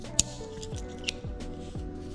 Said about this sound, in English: and we have scissors.